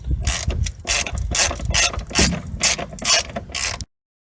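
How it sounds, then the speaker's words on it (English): Socket ratchet working 10mm bolts on a 2002 Chevrolet Cavalier during rear strut replacement, giving a steady run of close, loud ratcheting clicks in quick bursts that stops abruptly near the end. "These are 10mm bolts, and I'm just applying the socket so that I can start unscrewing them out."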